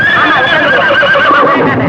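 A horse whinnies loudly and close by for about two seconds, a long wavering neigh with a clip-clop of hooves faintly beneath it, in a classic Tamil film scene.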